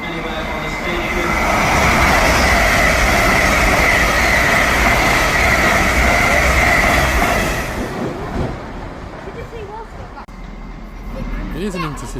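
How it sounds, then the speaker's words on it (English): An intercity train rolls through Doncaster station, a loud, steady rumble and roar of wheels and engine that fades after about eight seconds into quieter platform ambience with a few squeals. "It is an intercity."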